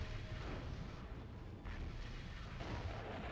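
Heavy weapons fire and explosions from a MechCommander Gold battle as an enemy mech is destroyed, a continuous dense rumble of booming blasts with no clear pauses.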